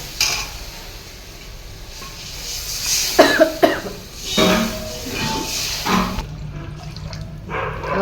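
Water splashes and trickles into a pan of vadi rassa curry, with clinks of utensils and a stirring scrape, fairly close, ending in a quieter hiss.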